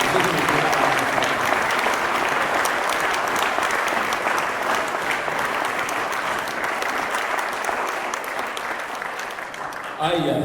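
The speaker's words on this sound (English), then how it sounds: "Give them a great round of applause." A large audience at a college's State of the College event applauds its staff with dense, steady clapping that holds evenly for about ten seconds before tapering off at the end.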